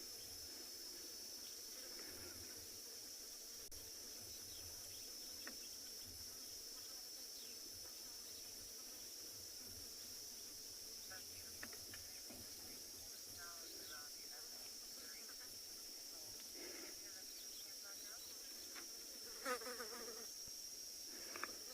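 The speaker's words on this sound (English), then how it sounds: "In the distance you can hear the cicadas or the cicada." Cicadas in the Kalahari at sunset drone in a steady, high-pitched buzz from a distance, faint and continuous throughout, with a few scattered soft rustles.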